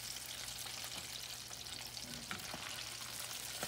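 Catfish fries in a pan with a steady, dense sizzle and crackle that holds at an even level throughout, close up and without talk.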